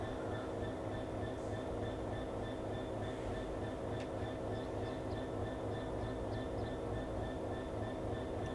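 A Class 66 diesel locomotive in Train Sim World 6 rumbles past with a steady, heavy low drone and a few faint higher squeals and clicks, continuous and close throughout.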